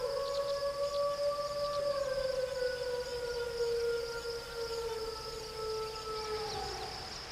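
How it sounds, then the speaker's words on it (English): Wolves howl at night in long, drawn-out, gliding tones, several voices overlapping and slowly falling in pitch, clear against a quiet background. "The howls of wolves can be used to define their territories and warn strange wolves to stay away."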